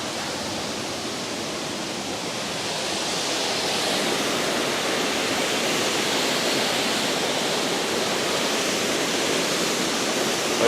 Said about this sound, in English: right opposite where the falls are actually coming through